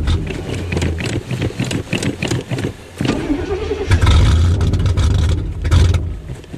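A 1986 Pontiac cranking in winter cold with no choke, starter chugging unevenly before the engine catches and roars into a rough, loud idle.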